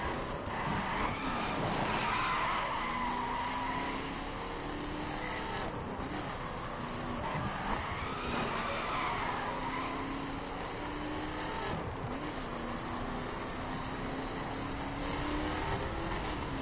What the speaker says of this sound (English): it's just a fun little car to take around and spin the tires on.